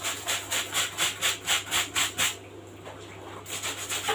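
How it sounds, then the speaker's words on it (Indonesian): A helmet scrubbed gently with a soft brush: a close, rhythmic swish of about ten even strokes, a short pause, then a few more soft strokes, quiet against a faint hum. "kita sikat pelan-pelan ya"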